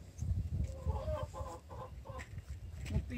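Chickens in a backyard chicken pen cluck in quick, uneven bursts, several birds close by and moderately loud, with a low rustle underneath and no talking.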